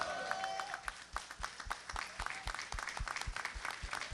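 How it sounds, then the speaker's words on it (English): A congregation gives a brief, thin round of clapping, with scattered individual claps at an irregular rhythm, close and modest in volume, while a few voices murmur beneath. "I should get more of a clap than that"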